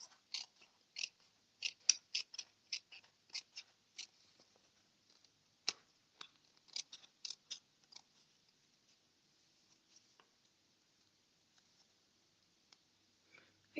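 Scissors snip through paper along an envelope flap in a quick run of short, crisp cuts, close and fairly quiet, then slowing to a few scattered faint clicks.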